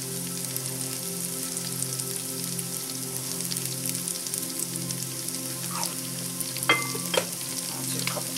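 Breakfast potatoes frying in a pan give a steady, dense sizzle throughout, with a few sharper clinks and scrapes near the end.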